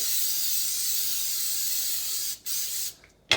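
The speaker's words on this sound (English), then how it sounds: "I'm going to spray it with some coconut oil because we're trying to stay keto" A steady hiss of coconut oil aerosol spray onto a pizza pan runs for over two seconds, stops briefly, resumes, then fades out, close and fairly loud.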